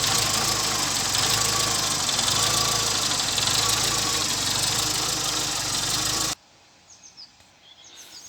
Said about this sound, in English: Poor little car, she's idling a bit rough there.